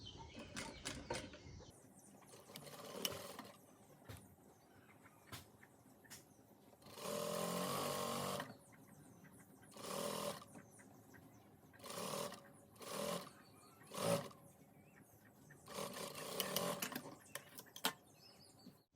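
An electric sewing machine stitches a double-colour gown in short, loud whirring bursts of a second or two each, separated by quiet pauses and faint handling of the fabric.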